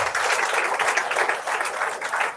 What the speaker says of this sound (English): Let us appreciate their efforts with a big round of applause.